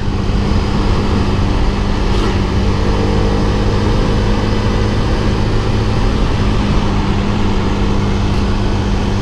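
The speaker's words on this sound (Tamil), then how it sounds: "வண்டி நம்ம ஸ்லோ ஸ்பீடில் ஓட்டலாம். 4th கியரில் இருக்குது" A Hero Karizma XMR 210 motorcycle cruises at slow speed in fourth gear, a steady, loud engine drone with wind rush that holds evenly for about nine seconds, with no talking.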